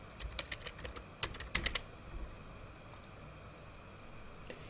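A name is typed on a computer keyboard, quick bursts of crisp key clicks in uneven clusters, close and fairly quiet over a faint hiss.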